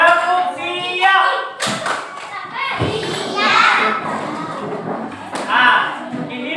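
Schoolchildren in an Indonesian classroom perform the 'tepuk siap' clapping routine, a burst of claps and thumps from the class mixed with children's chatter, with a teacher's voice speaking over it.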